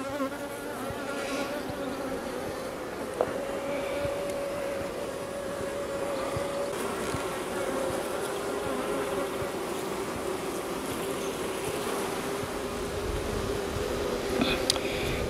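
Honey bees in an apiary hum steadily during a hive inspection ahead of overwintering, a dense continuous drone with a few individual bees whining close to the microphone.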